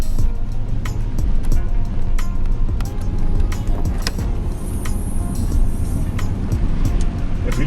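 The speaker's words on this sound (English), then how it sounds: "And it's a V8 bi-turbo engine." A 2020 Audi RS7 with a twin-turbo V8 runs loudly and steadily throughout, its dense low rumble continuous from start to finish with a few brief clicks and knocks on top.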